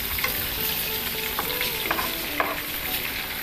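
Chicken pieces and garlic frying in butter in a pan for honey glazed chicken, a dense continuous sizzle up close with occasional light stirring clicks and no talking.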